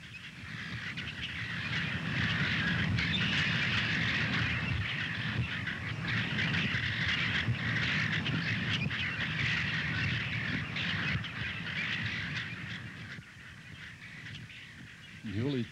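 A large flock of blackbirds calling together in a dense, continuous chattering racket, fairly loud and sustained, with the din easing slightly toward the end and a narrating voice over it.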